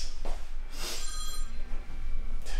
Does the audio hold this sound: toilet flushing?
no